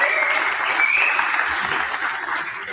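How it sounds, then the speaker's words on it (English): An audience claps in a historic 100-year-old Los Angeles dance hall, sustained applause throughout with a brief word spoken at the start. "So a little round of applause for our new foundation"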